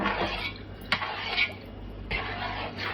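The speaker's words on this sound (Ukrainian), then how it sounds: "Все перемішую добре." A spoon stirs a homemade orange drink with natural honey, giving a few clinks and scrapes against the container amid soft sloshing, fairly close and with no speech.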